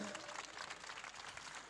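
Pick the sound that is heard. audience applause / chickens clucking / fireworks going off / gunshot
audience applause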